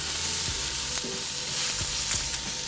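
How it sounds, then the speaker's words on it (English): Pork tenderloin sears in a hot pan of garlic-infused oil, giving a steady, close, loud sizzle with faint stirring clicks and no talking. "Pan should be nice and hot, so you hear that sizzle."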